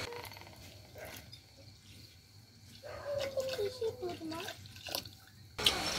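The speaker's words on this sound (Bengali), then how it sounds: "এবার দুধ দিয়ে দিচ্ছি।" Milk is poured into boiling tea in a village kitchen, giving a soft liquid pouring and dripping sound over a faint background hum, with a brief clatter near the end.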